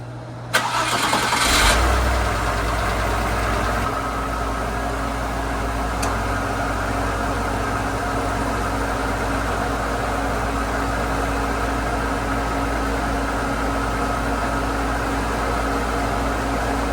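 A 1995 Audi 90 Quattro starts after an oil cooler install: a brief crank catches into a loud rev that settles into a steady, close idle running throughout.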